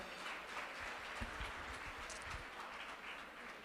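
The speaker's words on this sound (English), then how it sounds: "Another round of applause for Chief Mark Sanders, ladies and gentlemen." Faint, distant applause fills a Radiant Night autism charity gala hall for Chief Mark Sanders: a steady patter of many hands clapping, with scattered sharper claps, and no talking over it.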